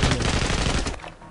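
Gunfire in the video game Sniper Ghost Warrior 2: a loud, dense burst of rapid shots lasting about a second, then tailing off into a quieter echo with no talk over it.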